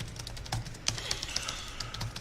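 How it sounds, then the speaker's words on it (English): Typing on a computer keyboard during a live coding session, a quick patter of close key clicks with a few louder strokes, continuous and without speech. "I'm typing"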